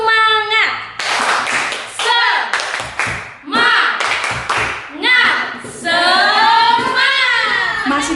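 At an Indonesian Sunday school service, children's voices chant and speak between bursts of sharp hand claps, the clapping coming in short rhythmic clusters close by, then giving way to sung or chanted voices.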